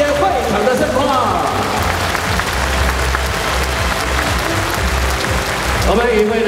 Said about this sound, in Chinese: 大家掌声不断